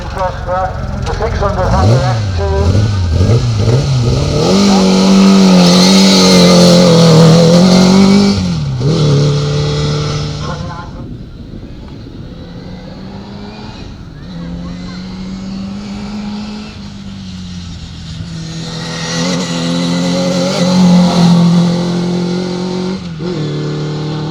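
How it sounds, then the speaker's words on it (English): A curly motorcycle trike powered by a 1300 A series car engine climbs a hill at a hillclimb event, revving loud and close with rising and falling pitch, then fading to a steadier drone as a commentator talks over it. "That particular trike, of course, is powered by a 1300 A series car motor."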